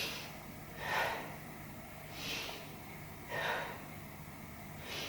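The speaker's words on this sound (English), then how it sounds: "Let's take 3 breaths." Slow, deep breaths drawn during a Pilates hip and glute exercise, three soft airy inhale-exhale swells spaced a little over a second apart, close but quiet against a steady low background hum.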